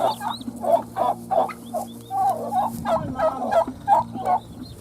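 Turkeys gobble and cluck in a rapid, busy chorus, loud and close, with calls overlapping in quick bursts.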